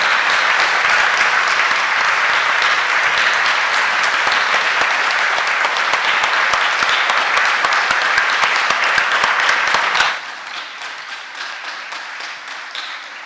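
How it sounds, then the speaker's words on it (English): Loud, sustained applause from a large conference audience for the organizers, dense clapping that fills the room for about ten seconds before dropping sharply to a scattered, quieter patter. "let's most of all give a gigantic applause to all the organizers for this really wonderful conference"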